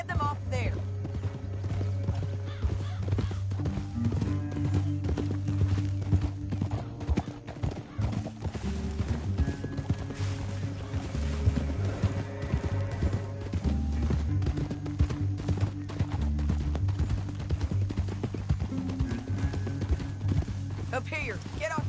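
Horses gallop with steady, rapid clip-clop hoofbeats in Red Dead Redemption 2, with occasional neighs over continuous background music and game sound, and voices talk intermittently throughout.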